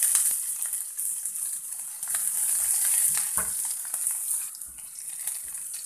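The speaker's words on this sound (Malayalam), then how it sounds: "നമ്മുടെ കടുക് പൊട്ടി, നമ്മൾ അതിന് പിറകെ പച്ചമുളക് ഇട്ട് കൊടുക്കുക." Mustard seeds and green chillies fry in hot oil for a samosa filling, making a steady, bright hiss with scattered soft crackles and pops close by.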